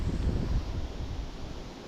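Strong wind rumbling and buffeting against the microphone while fishing, a low roaring gust that eases slightly toward the end.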